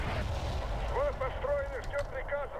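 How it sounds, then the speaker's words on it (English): An artillery barrage in Wargame Airland Battle rumbles with low, heavy booms beneath someone talking throughout. "I think we can get one more lucky barrage off. Definitely with the Malchus."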